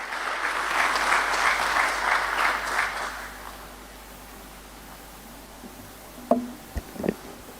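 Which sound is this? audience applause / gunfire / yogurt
audience applause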